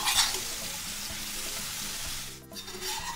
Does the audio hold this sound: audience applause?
no